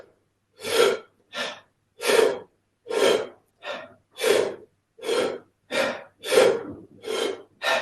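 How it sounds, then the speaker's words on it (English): A person demonstrates deep diaphragmatic breathing, mostly into the stomach. About a dozen close breaths come in a regular rhythm, each a soft, airy burst separated by short silences, with no speech. "So let's try a few breaths just like that."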